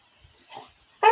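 A pet dog gives a single short, sharp bark at the end of a quiet indoor moment, preceded by faint soft whimpering sounds.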